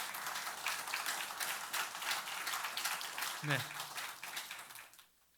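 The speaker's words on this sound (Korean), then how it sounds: "주께서 그 힘찬 권능으로 함께 해주시라고 우리 도강농 목사님께 격려의 박수 한번" A church congregation at an ordination service clapping together in encouragement for their pastor, a sustained burst of dense applause that fades out at the end, with a brief spoken word partway through.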